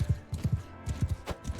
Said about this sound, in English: Horseback riding with a lance.